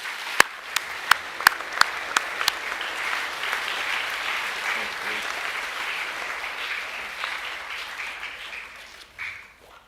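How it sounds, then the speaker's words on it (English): An audience claps at a school junior academic awards assembly, a sustained moderate round of applause with a few sharp clicks early on, tapering off near the end. "Can we give them one more round of applause, please?"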